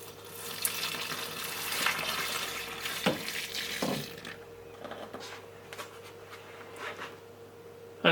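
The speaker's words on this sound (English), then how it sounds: "And then you pour 800 ml of water, which is this." Water poured from a container into a GEME electric kitchen composter, a steady splashing trickle for several seconds that thins into intermittent drips and small clinks, close by and moderately quiet.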